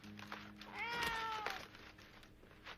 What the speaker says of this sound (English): But you mean you brought a cat with you?